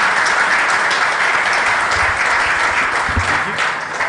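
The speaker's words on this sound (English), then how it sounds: "A round of applause for them, please." Audience at a school sport forum claps for a panel, steady dense applause filling the room throughout, with faint voices underneath near the end.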